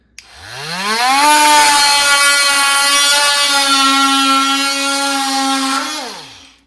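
A Ryobi oscillating multi-tool winds up to speed and cuts with its blade, a loud, steady buzzing whine held for about five seconds before it spins down. Close and alone, with no speech.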